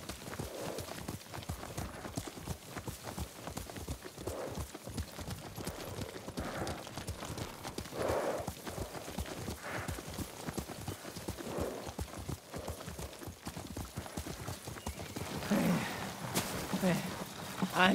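Horse hooves clip-clopping at a steady riding gait in Ghost of Tsushima, a continuous rhythmic patter of close hoofbeats running throughout, with voices talking over them now and then.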